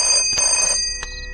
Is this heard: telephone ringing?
yes